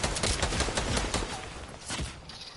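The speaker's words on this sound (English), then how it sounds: "Oh, I'm getting sniped at from another angle." Gunfire in a video game, a rapid run of sharp, loud shots and cracks that crowd together in bursts for a couple of seconds, with no talking over them.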